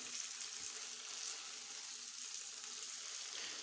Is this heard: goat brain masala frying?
yes